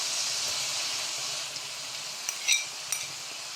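Parsley and garlic dropped into a hot pan fry with a steady sizzling hiss, joined by a few light clinks of a utensil toward the end.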